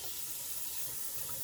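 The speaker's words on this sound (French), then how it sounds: "On met l'eau très chaude. On envoie la microfibre dans l'eau." Very hot water runs steadily from a tap into a sink, a continuous close hiss and splash with no talking.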